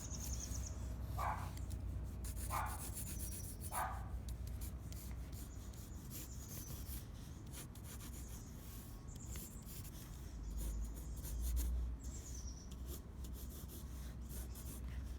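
Pencil scratching and rubbing across paper while sketching a paper bag, soft intermittent strokes close by, faint and quiet, with brief higher squeaks and no talk.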